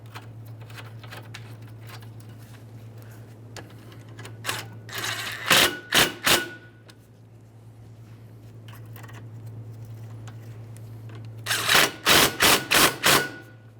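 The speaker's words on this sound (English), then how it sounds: "Now we can put in the bolts that hold the AC condenser to the radiator." A power tool fastens the bolts holding the AC condenser to the radiator of a 2002-2009 Chevrolet Trailblazer 4.2L L6, with rapid bursts of clicking ratchet-like chatter in two clusters over a constant low hum.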